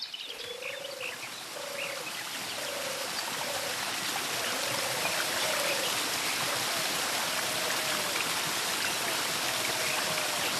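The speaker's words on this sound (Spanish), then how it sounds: "Nos encontramos en la fuente del Euro. El agua se recogía aquí, en el manantial" Water flows steadily at the spring source of a Roman aqueduct, a continuous broadband rush over about ten seconds, with faint bird chirps repeating through the background.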